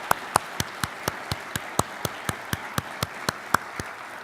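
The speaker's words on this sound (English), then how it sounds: "Bruce, would you join me in a round of applause for our board members?" Small audience at a university event claps for board members, a sparse, regular patter of individual hand claps, fairly close and moderately loud, with no talking.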